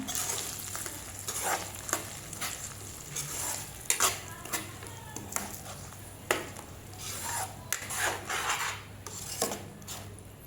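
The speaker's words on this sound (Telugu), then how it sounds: "సాల్ట్ వేసుకుంటాం టేస్ట్కి సరిపడా ఒకసారి కలిపేసుకుంటాం" A spoon stirs punugulu fritter batter in a bowl right after salt goes in: close, wet scraping and slapping strokes in an uneven rhythm, with occasional light clinks against the bowl and no talking.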